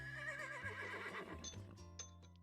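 A horse in the game Fate/Grand Order gives a loud, wavering whinny that rises and trembles, followed by a couple of snorts and stamping clip-clop sounds, heard alone without talk.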